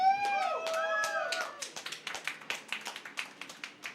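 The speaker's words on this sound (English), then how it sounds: "When you hear the round of applause" Clapping from an audience at a Tekken 3 tournament pre-show at the Galloping Ghost Arcade in Brookfield, Illinois: a voice first, then a run of sparse, fairly regular claps building over a few seconds.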